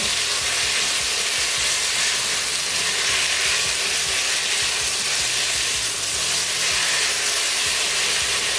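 Food seasoned with dried thyme and salt fries in a covered pan, a constant bright sizzle and hiss that runs unbroken throughout, with faint low knocks beneath it and no voices.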